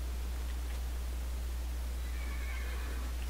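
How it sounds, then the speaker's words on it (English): A horse in a Minecraft-style video game gives a brief, faint neighing whinny over a constant loud low hum, with no speech. "Oh, and a black horse."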